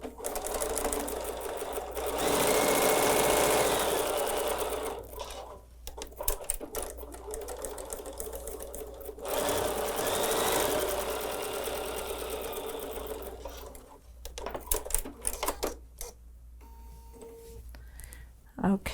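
Sewing machine stitching a quarter-inch seam on fabric: loud, close mechanical whirring in several bursts of a few seconds each, separated by short pauses and handling clicks.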